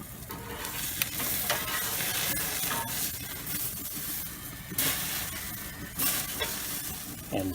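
Steak searing in hot oil for a Pittsburgh-style steak, a loud continuous crackling sizzle with bursts of spattering and sharp pops, heard up close with no talking.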